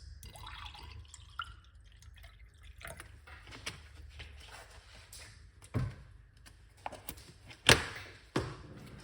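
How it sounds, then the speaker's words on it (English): Water trickles and drips into a cup for a cayenne pepper detox drink, in soft, irregular splashes, fairly quiet and close, with a few louder drops near the end. "pour some water inside of it like this."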